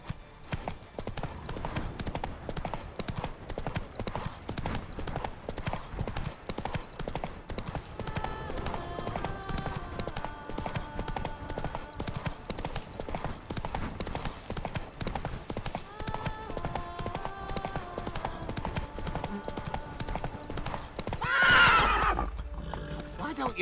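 The horse Roach gallops in The Witcher 3, with rapid rhythmic hoofbeats throughout, a neigh partway through, and a voice speaking over the hooves.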